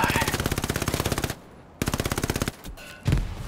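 Gunfire in the World War II shooter Hell Let Loose, with two loud, close bursts of rapid automatic fire separated by a short pause, followed by scattered quieter shots and a final heavy report.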